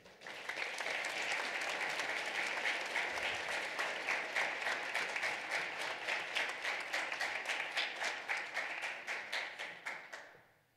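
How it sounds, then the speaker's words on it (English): An audience applauds for about ten seconds, dense clapping that stays steady and full before thinning into separate claps and fading out. "Please give our 2022 Who's Who winners a round of applause."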